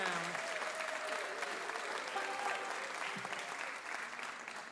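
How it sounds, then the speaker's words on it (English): Applause from a concert audience at a live music show, honoring the volunteer crew; steady, dense clapping throughout, fairly loud and sustained, tapering slightly at the end with a faint voice briefly underneath. "they deserve not just applause, a standing ovation"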